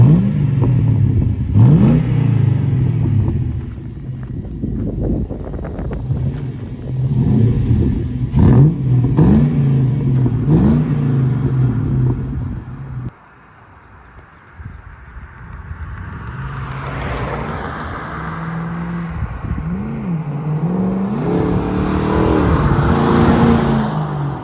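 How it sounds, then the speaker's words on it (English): A 2021 Osprey D110 truck driving, its engine revving up and down loudly and close by. It eases briefly midway, then builds again with rising revs, and no one speaks. "welcome to the driving video of our D110 Osprey"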